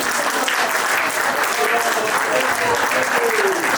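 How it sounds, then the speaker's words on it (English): A crowd at an 80th birthday party applauds steadily, dense clapping holding at an even level throughout, with faint voices mixed underneath. "So can we have a big round of applause for that?"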